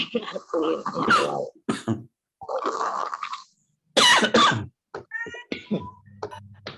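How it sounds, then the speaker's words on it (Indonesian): A few sharp coughs burst out between stretches of close speech, with short pauses in between. "Maaf saya agak batuk ya."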